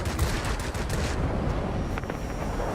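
Aircraft machine guns rattle continuously in a combat flight video game, a dense rapid burst of gunfire over engine roar, loud and unbroken for the whole stretch.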